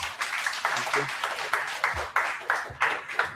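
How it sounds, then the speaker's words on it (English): A small meetup audience applauding a speaker, sparse uneven clapping in distinct bursts with gaps between, fairly close and modest in volume, with faint voices mixed in. "Everyone, give a round of applause to Shuvo."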